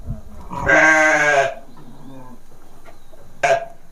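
A sheep bleats once, loud and close, with a drawn-out wavering cry inside a livestock shed. A short, sharp second call follows a couple of seconds later, and faint background noise fills the gap.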